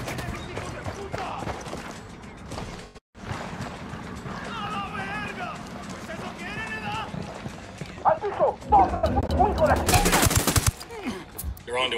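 Gunfire bursts crackle in a Ghost Recon Wildlands firefight at a prison village, with loud rapid shots near the end, mixed with game effects and radio-style talk from several voices throughout.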